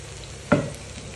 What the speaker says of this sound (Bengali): এবার আমি এটাকে নাড়তে থাকবো এবং তেলের সাথে মিশিয়ে নেব।